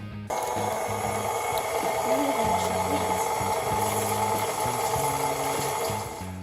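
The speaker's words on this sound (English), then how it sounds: "Then you dump the eggs into the mixer with the rest of what you've made. Then you mix slowly." Electric stand mixer running slowly through banana bread batter, a continuous motorized whir with a stepping, pulsing hum that stays loud and steady for several seconds after switching on.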